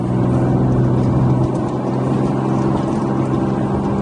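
A 2019 second-generation Acura NSX engine pulls hard under acceleration, giving a loud, steady, close drone throughout with no pauses.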